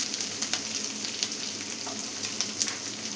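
Sliced onion and green chili frying in oil in a pan, a constant dense sizzle with faint occasional clicks of stirring, no voices over it.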